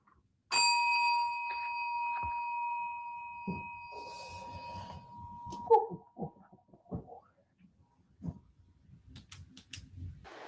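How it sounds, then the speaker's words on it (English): A single sharp strike of a bell opens with a bright ringing tone that decays slowly over several seconds, followed by quiet handling clatter and a few soft knocks. "Ring the bell."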